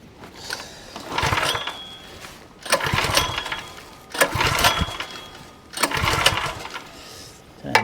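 A newly built Black Diamond kinetic log splitter's small engine is cranked over and over in four bursts of a couple of seconds each, with brief quiet gaps between the loud, close pulls.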